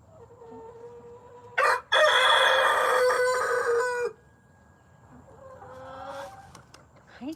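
A rooster crows loudly and close inside a backyard chicken coop, one long strained call, followed by softer clucking and another brief crow from the flock.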